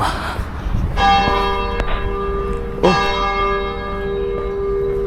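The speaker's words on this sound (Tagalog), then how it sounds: "10:30 nagbe-bell rang ang church." Church bells ring out loudly at 10:30 on a cool, sunny day, several struck peals sounding in sequence with long ringing overtones that overlap and linger; a brief exclamation is heard near the start.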